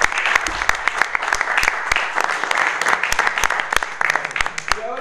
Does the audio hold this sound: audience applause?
yes